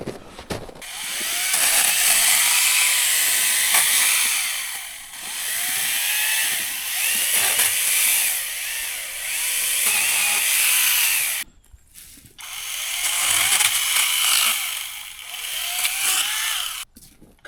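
A Senix 60V cordless pole saw cuts through frozen wood outdoors on a frigid day, its motor a loud, steady whine with a gritty cutting edge that drops out briefly twice, near the end and partway through.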